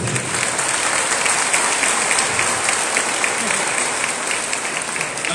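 A crowd at a municipal swearing-in ceremony in Tepeojuma gives a long, even round of applause for an alternate senator, thick and continuous without anyone speaking over it.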